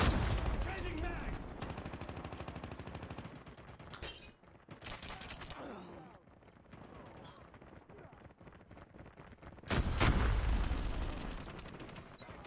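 Airstrike explosions and gunfire in the shooter game Call of Duty Mobile, with bursts of heavy booms and rattling shots at about 4 and 10 seconds amid quieter stretches of battle noise.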